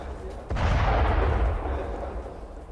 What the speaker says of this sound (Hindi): हिजबुल्लाह के ठिकानों पर बमबारी की ये तस्वीरें।